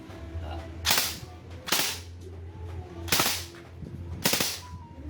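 Four sharp cracks from an M4A1-style JWC rifle being zeroed on a target, evenly spaced about a second apart, each a crisp snapping shot over a low background hum.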